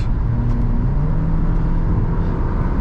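A 2022 Suzuki Vitara with a 1.4 turbo hybrid engine accelerates at full throttle, a steady loud engine drone and road roar heard from inside the car without a break.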